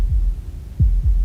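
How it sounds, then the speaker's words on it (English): Heartbeat in the video game Slay the Princess, deep low thumps over a dark droning hum, one beat then a close pair, loud and near. "That was the sound of a heartbeat, followed by another,"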